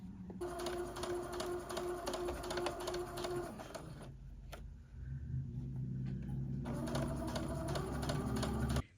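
A sewing machine stitching the edges of cushion cover fabric: a steady, loud mechanical whir with rapid needle clatter, a brief pause, then the motor running again at a lower drone.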